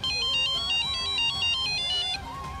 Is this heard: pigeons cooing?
no